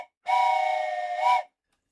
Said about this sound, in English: I think we're caught up on the train whistles now.